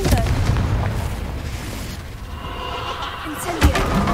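A Confringo blasting curse goes off in Hogwarts Legacy with a loud, booming roar that rolls on continuously, then a sharp extra burst near the end.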